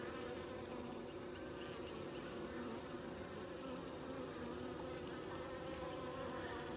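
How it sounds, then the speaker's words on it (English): Honeybees buzz inside a hive as a queen enters, producing a dense, steady drone of many wings at close range that holds constant throughout without pause or voices. "There may be bees in there with her"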